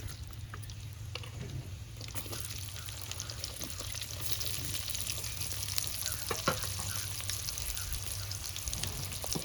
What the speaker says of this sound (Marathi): तर इथे मी आता तेल ॲड करते